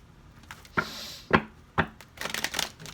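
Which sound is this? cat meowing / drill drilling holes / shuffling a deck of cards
shuffling a deck of cards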